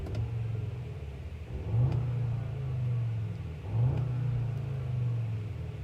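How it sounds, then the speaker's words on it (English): A 2022 Audi S3 exhaust in dynamic mode gives two rising revs with a bassy burble over a steady idle rumble, heard close and fairly loud with no talk. "it does kind of have a nice little bassy burble to the exhaust"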